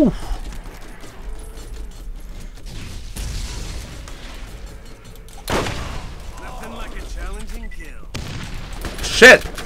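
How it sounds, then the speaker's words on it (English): A thrown grenade blows up in the video game Borderlands, with booms and gunfire bursts among game sounds, a loud blast peaking near the end, while someone talks over the action. "Oh, I threw a grenade."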